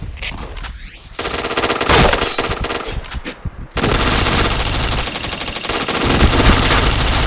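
Rapid automatic gunfire from a video game shooter, loud and close, with sustained bursts broken by short pauses. A dense unbroken stream of fire takes over in the second half.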